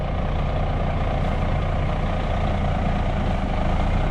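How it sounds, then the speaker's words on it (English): A big rig truck idles steadily with a deep, continuous low rumble and broadband vibration throughout, the engine sitting on new motor mounts and shaking the whole cab, with no talk over it. "The whole truck vibrates, the motor mounts."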